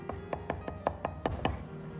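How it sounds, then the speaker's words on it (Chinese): A kitchen knife chops garlic cloves into a fine paste on a cutting board, giving about eight quiet, evenly spaced knocks in a steady rhythm. "先拍破，然后再剁成蒜泥，"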